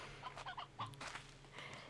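Chickens in the video game Slime Rancher 2 cluck softly in short bursts, several quick chirpy calls spread over a couple of seconds, quiet and alone with no talking.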